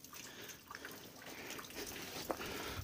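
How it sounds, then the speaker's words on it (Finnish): Small streams trickle with water dripping on both sides at the boggy bottom of a rocky gully on Paha-oinasvaara in Finland, a steady quiet wash of running water with a few faint drips, no speech. "Kivasti lirisee purot täällä."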